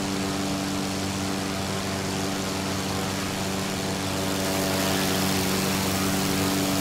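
DH-82 Tiger Moth biplane in flight in Microsoft Flight Simulator, its propeller engine droning steadily with a buzzing, even tone that swells slightly louder toward the end, with no voices.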